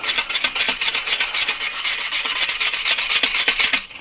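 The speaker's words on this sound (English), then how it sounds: "So literally all I'm doing is just getting the flakes off" Rapid back-and-forth scraping of rust flakes off a car body seam, a close, loud, rhythmic rasping of quick strokes with no voices.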